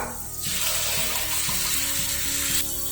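Cooked mutton being sautéed with onions and green chillies in a pan, a continuous bright hiss of frying with soft stirring knocks underneath, close by and without talk.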